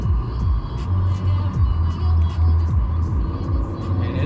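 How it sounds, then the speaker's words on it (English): Heavy road traffic on a busy street, with cars rumbling and passing continuously, engine drones rising and falling close by for several seconds. "And this traffic is heavy as hell out this way."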